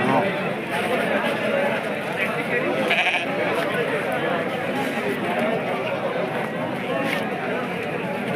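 Dense crowd chatter fills a busy outdoor sheep and goat market in Tumakuru, with occasional sheep and goat bleats mixed into the loud, continuous din.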